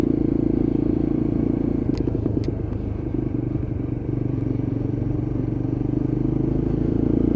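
A Lexmoto LXR 125cc Euro 5 motorcycle rides along a road, its small single engine humming steadily and close with a constant drone, broken by a couple of brief clicks early on.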